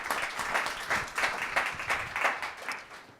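Applause from an audience at a breakfast panel on early childhood education, moderate and steady with clapping bursts pulsing throughout, heard from some distance.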